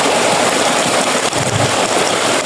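Flash flood water rushes down a stream in a continuous loud churning roar, with a low engine-like rumble running beneath and no speech.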